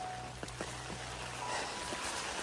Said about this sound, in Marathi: वरतून जोरदार असा पाऊस चालू झाला मित्रांनो.